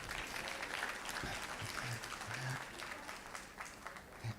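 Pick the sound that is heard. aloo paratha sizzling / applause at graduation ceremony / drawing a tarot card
applause at graduation ceremony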